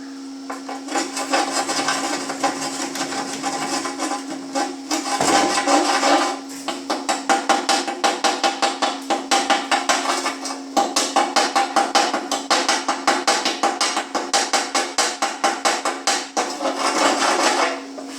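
Chipping hammer knocking slag off a fresh MIG weld bead, a fast run of sharp metallic taps and scrapes over a steady welding-shop hum, close and loud with brief pauses between bursts.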